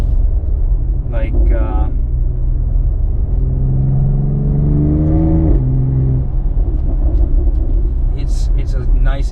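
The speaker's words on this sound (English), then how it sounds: "it's a nice inline six sound" A BMW X3M's inline-six engine revs, the steady rumble rising in pitch and then dropping back, with a voice heard briefly near the start and the end.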